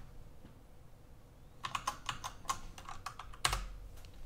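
Quiet, close keystrokes clatter on a computer keyboard while code is written, starting after a silent lead-in as an irregular burst of taps with one louder thump near the end.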